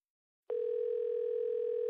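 A telephone sounds a single steady electronic tone that starts abruptly after a short silence and holds unbroken, close and clear, with no voices over it.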